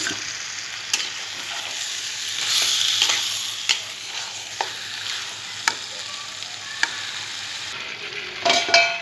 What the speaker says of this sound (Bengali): তো মাংসটা আমি এবার কষিয়ে নিচ্ছি।